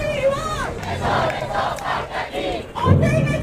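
A massive crowd cheers and chants in praise of President Trump's action in Iran, a dense, continuous roar of many voices with rhythmic shouted chants rising and falling throughout.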